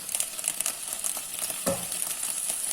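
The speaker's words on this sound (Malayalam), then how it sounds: "അത് തണുക്കാൻ വെച്ച സമയത്ത് നമ്മൾ ഈ വഴുതനങ്ങ വഴറ്റണം" Eggplant sautéing in a pan for a vazhuthananga curry made without coconut, a close, steady sizzle with light stirring scrapes and one brief louder knock partway through.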